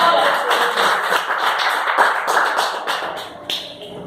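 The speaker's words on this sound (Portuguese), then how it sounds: "então aplaude e glorifique esse Deus poderoso" Church congregation clapping during a Pentecostal worship service, a dense, steady mass of handclaps from many people close by, with a faint voice underneath.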